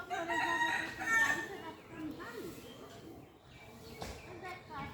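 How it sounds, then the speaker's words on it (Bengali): A local village rooster crows at a distance, quiet and partly overlapped by people talking nearby. "দেশি মোরগ"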